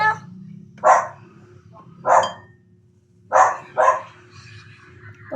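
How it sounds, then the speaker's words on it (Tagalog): A household dog barks five times in separated bursts, one quick pair near the end, each bark sharp and fairly close against a quiet indoor room tone. "Tumatahol yung aso namin."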